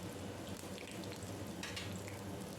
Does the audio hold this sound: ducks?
no